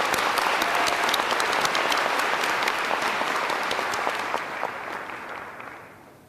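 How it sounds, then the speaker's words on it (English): Sustained audience applause at a university spring commencement, loud and dense clapping from a large crowd that holds steady for several seconds and then gradually thins and fades toward the end. "I'd like to lead the applause."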